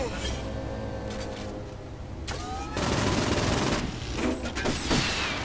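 Bursts of gunfire in Gat Out of Hell rattle in quick, dense volleys over a constant background of game noise. Two loud bursts stand out among the shooting.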